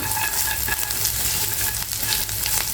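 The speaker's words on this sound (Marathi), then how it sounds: "कढीपत्ता परतल्यानंतर एक मिनटाने शेंगदाणे घालायचे कच्चे शेंगदाणे घालायचे हे चांगले परतून घ्यायचे" Raw peanuts and curry leaves fry in a pan for a fasting varai upma, giving a close, steady and dense sizzle that continues without a break.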